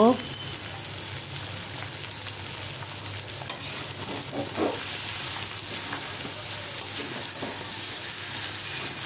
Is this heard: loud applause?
no